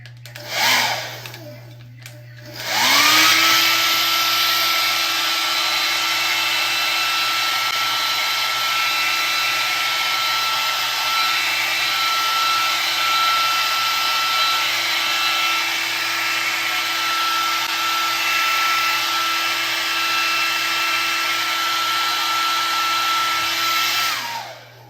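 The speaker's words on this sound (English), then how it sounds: "You won't be able to hear me because the dryer be up" A hair dryer runs on a cool, high setting close by, starting with a brief sputter before settling into a loud, steady whirring blow that continues unbroken until it cuts off at the very end.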